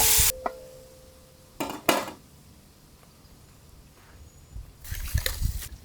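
Ginger goes into a frying pan for country chicken and is stirred, with several loud scraping, clattering bursts of utensil against metal over a low sizzle, close and with no talking.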